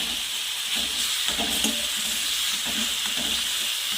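Tomatoes for chutney mixed and frying in a pan produce a loud, continuous sizzle and hiss, with soft stirring scrapes partway through.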